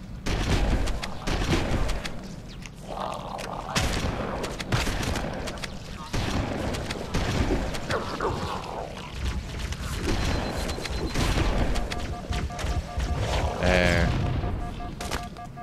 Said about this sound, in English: Another rocket flood.